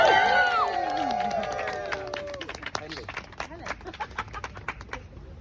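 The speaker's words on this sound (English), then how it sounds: "So a big round of applause for Henry." An outdoor crowd in Parliament Square applauds and cheers at a World Soil Day speech event. Whistles and shouts open the clip, followed by scattered clapping that thins out. Voices carry throughout.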